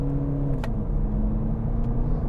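Diesel engine of a Genesis G70 Shooting Brake humming steadily close by in a car, a continuous low drone with no clear rise in revs, alone without talk.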